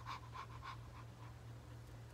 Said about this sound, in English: and she's panting.